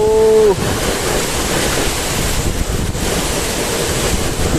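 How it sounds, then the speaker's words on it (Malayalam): Strong storm wind off the Kerala coast roars loud and steady into the microphone, a continuous buffeting rush with surf-like noise and no pause throughout. "ഏകദേശം നൂറ്റൻപത് സ്പീഡിലാണ് കാറ്റ് പറക്കുന്നത്"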